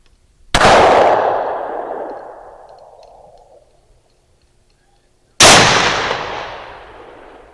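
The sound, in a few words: gunshots from a Ruger American Gen 2 450 Bushmaster rifle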